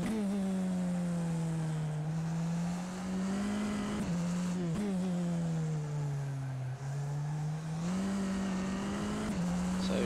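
A Tatuus FT-60 single-seater race car laps Silverstone in rFactor 2, its engine droning steadily with pitch dipping and climbing through gear changes and corners, heard alone and up close.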